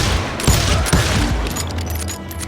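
Gunfire in Call of Juarez: Gunslinger, a loud burst of shots: two sharp heavy reports followed by rapid, close, crackling fire that keeps up for a couple of seconds.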